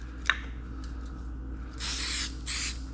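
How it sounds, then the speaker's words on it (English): Cleaner sprayed onto factory Rony brackets of a Quad City Challenger II: two short hissing aerosol bursts, close and fairly loud, with a brief tap before them and quiet room tone between. "Just spray them down."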